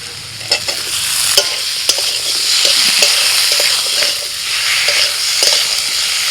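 Potatoes are sautéed in a pan with ginger-chilli paste, salt, turmeric, cumin and coriander powder and chopped tomato. They give a continuous close sizzle broken by repeated scraping stir strokes.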